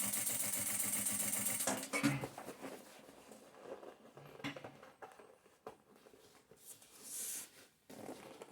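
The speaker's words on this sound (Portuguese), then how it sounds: "deito a minha bolsa e venho costurando com conforto, tá?" A sewing machine stitches the seam of a handbag with its lining tucked inside, running in short quiet bursts of rapid needle chatter separated by pauses and soft handling noises.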